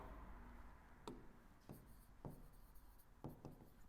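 A pen scratches across paper during a maths lesson in quiet, faint strokes, with a few sharper taps and scribbles in the room's low hush.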